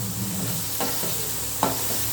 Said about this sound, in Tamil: மீன் பொரியுது.